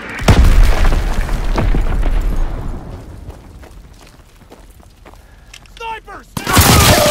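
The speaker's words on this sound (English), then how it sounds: "Sending mortar rounds!" Mortar rounds exploding in Call of Duty: WWII, heavy booming blasts and rumbling debris up close, fading into scattered distant shots and chatter, then another loud crash at the end.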